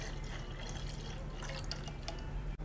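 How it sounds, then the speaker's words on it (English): Alcohol pours into a cup in a layered-liquid science experiment, a soft continuous trickle and splash heard close and quiet for a few seconds without talk. "This is the alcohol that I'm gonna pour in."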